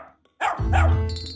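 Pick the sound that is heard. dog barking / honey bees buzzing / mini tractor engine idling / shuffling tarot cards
dog barking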